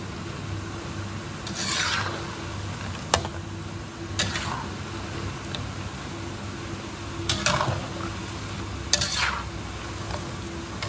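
Sweet potato crisps float in hot frying oil, with a steady low bubbling hiss underneath and a spatula sweeping through in slow, separate scraping strokes every couple of seconds, close and without talk.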